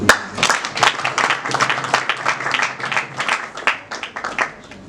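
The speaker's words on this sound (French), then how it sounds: "Est-ce qu'on peut nous applaudir?" A small press conference audience claps, the individual hand claps distinct and uneven, rising and falling in bursts, moderately loud and close.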